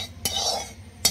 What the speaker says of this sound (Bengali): তেলটা কড়াইয়ের চারিপাশে ভালো করে লাগিয়ে দেবো